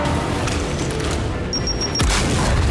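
Frag grenade explosion in Gears 5, a heavy game blast landing near the end amid ongoing loud gunfire and a short high electronic tone, with no talk.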